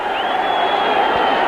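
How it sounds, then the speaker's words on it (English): Large cricket crowd at a Kolkata Test match between India and Australia, cheering and roaring steadily and loudly throughout, a dense wash of voices with a rising whistle-like tone near the start. "And the crowd's still on their feet"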